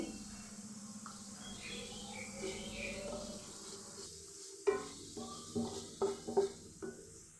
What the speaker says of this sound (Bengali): এভাবে নাড়াচাড়া করে ভালোভাবে ভেজে নিব